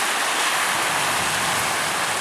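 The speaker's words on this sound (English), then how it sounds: "It's still raining." Heavy monsoon rain pours steadily during flooding at a house, a dense unbroken hiss of water falling with no pauses or voices.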